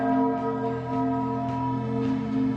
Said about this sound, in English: And now it's chime time.